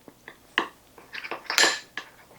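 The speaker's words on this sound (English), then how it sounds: "we're just going to stir that together until we can get all those chocolate chips melted" A spoon scrapes and clinks irregularly against a bowl while chocolate chips are stirred to melt, giving several close, sharp metallic taps and scrapes.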